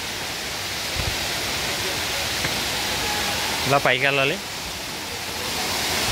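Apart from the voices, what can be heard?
waterfall flowing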